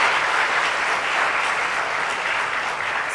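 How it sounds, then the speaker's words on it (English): A debate audience applauds the team members in a steady, dense wash of clapping hands, sustained and even at full strength for the whole few seconds, with no speech over it. "I'd like you to join me in applauding all the team members for such a job"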